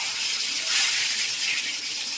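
Constant loud sizzling hiss of mustard seeds and chilies frying in hot oil, steady and close, with no talking.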